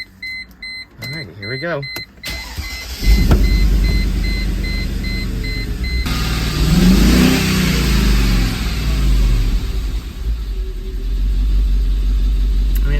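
A Mercedes W202 C43 AMG with misfire code P0300 cranks and fires up after a short spoken remark, then idles loudly nearby and revs, running a little rough.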